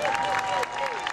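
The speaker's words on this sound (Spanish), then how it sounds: "un aplauso para ustedes" Festival audience applauding during independence bicentennial celebrations, a steady mass of clapping with a faint tonal whistle-like line running through it.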